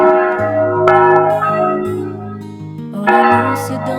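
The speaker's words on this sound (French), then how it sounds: "le village au son des cloches." Church bells ring out over the village of Mora de Rubielos, overlapping strokes of several bells sounding loud and close with long sustained tones, a fresh peal striking near the end.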